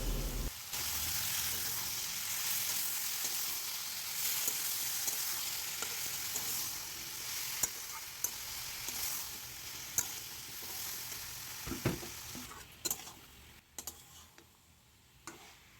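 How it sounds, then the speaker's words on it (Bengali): Spices and tomato puree sautéing in a pan, a dense steady sizzle with occasional clicks and stirring taps, thinning out toward the end. "একটা মিডিয়াম সাইজের টমেটো পিউরি করে মশলাগুলো ভালো করে এবার কষিয়ে নিতে হবে"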